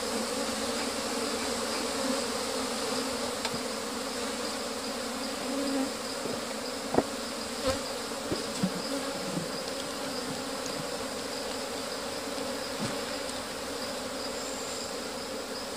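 Honey bees buzz steadily around an opened beehive during a swap of old combs for foundation wax, a dense continuous drone with a few faint clicks and knocks of hive handling.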